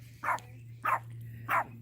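A dog barks three times in a steady rhythm, each bark short and fairly close, over a constant low hum.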